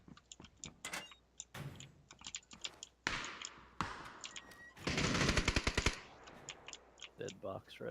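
Gunfire in PlayerUnknown's Battlegrounds, with scattered sharp shots and a dense rapid burst in the middle, heard close under a light clatter of keyboard clicks.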